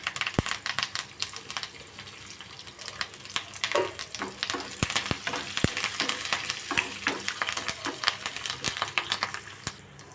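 Cashews and curry leaves frying in oil for sameya puliharai, a crackling sizzle peppered with sharp pops and spatters, plus stirring clicks, close and steady with no talk.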